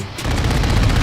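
Rapid automatic gunfire in the Modern Warfare 2 video game, a loud burst of closely spaced shots starting after a brief quiet moment and continuing steadily, no talking.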